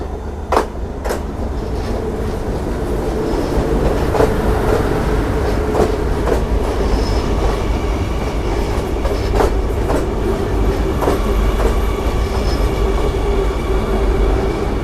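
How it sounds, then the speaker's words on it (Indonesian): The Ekspres Rakyat Timuran train pulls into a station in Malaysia with a steady loud rumble, rhythmic wheel clatter and faint metallic squeals, heard up close for the whole stretch with no talking. "Akhirnya datang juga kereta yang saya tunggu teman-teman."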